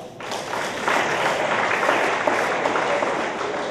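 A banquet audience at a school popcorn ball fundraiser applauds a winery; a continuous wash of clapping rises after a quieter start and holds evenly throughout, no speech over it.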